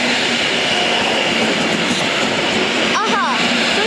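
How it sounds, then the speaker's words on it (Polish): A train passes through Gdańsk Orunia railway station, a loud continuous rumble of rolling stock with rail noise and a brief squeal near the end, while a voice talks over it. "To nie był pociąg do Słupska?"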